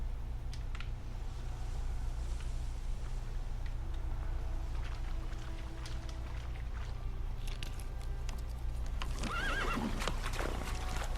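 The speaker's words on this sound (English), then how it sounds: "Whoa there, Roach." In The Witcher 3, a horse's hooves clip-clop at a steady pace, then a whinny rises near the end. The sound is moderately close and plays over a low game ambience.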